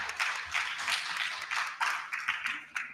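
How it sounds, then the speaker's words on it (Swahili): A small crowd at an arts event in Kisii claps for Kenya Copyright Board staff, light scattered applause that rises in a few quick bursts and stays fairly quiet and close. "Makofi wakikuja, tuwapigie makofi."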